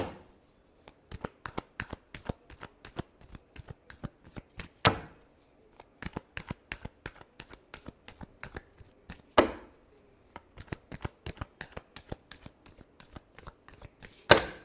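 Tarot cards are shuffled by hand in close, crisp riffles and taps, a rapid rhythmic patter broken by a few louder slaps as the deck is squared, with no talking.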